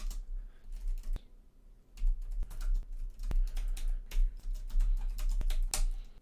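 Code is typed on a computer keyboard in quick, close key clicks that come in bursts with short pauses and an occasional louder keystroke, with no voices.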